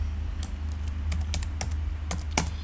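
Fingers typing a Python program on a computer keyboard, a quick irregular run of crisp key clicks over a steady low hum, close and clear, with no speech.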